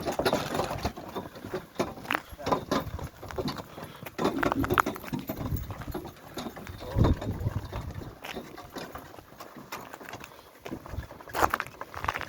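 Irregular hoof clops of a walking draft horse mare on the ground, moderately close, with rustling and faint background noise.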